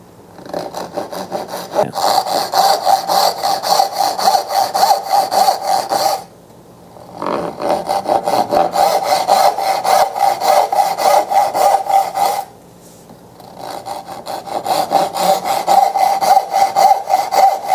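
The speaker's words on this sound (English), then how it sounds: "I'm going to use a dovetail saw to go ahead and cut the tails" A dovetail saw cutting the tails of a dovetail joint in a board held in a vise, loud close rhythmic back-and-forth rasping strokes in three long bursts separated by brief pauses, no voices.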